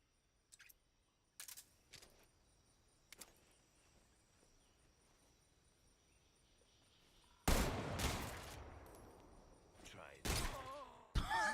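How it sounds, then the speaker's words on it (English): Gunshots in Metal Gear Solid Delta: a few sharp, faint cracks early on, then a burst of loud, close blasts with ringing tails near the end, alongside the quiet ambience of the game. "I just need to shoot him."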